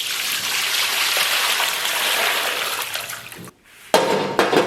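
Chopped scallions are washed under running water from a tap, giving a steady splashing stream that stops briefly and then resumes with a sharper splash.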